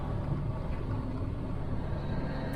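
A Peterbilt 359 semi truck with a fully mechanical engine drones low and steady on cruise control, a constant rumble inside the cab as the throttle picks up slightly.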